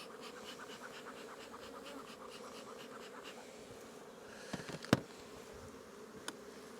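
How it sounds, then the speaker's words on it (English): Honey bees crowd the top of a hive frame during an early spring inspection, a steady close droning hum with a few sharp knocks near the end. "just get a little bit of smoke to just get these bees off the top of the frame"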